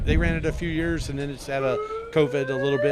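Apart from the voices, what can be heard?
siren at rocket launch site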